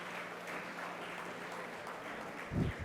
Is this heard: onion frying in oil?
no